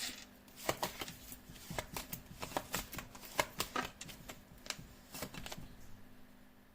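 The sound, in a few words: shuffling a deck of tarot cards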